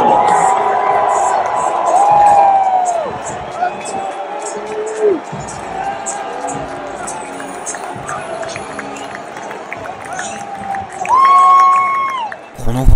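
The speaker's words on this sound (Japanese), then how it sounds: "このファンの大歓声の中" A baseball crowd cheers and gives a standing ovation for an Angels batter stepping up to the plate: a sustained, fairly loud roar of cheering that swells and dips, with a commentator's voice heard over it.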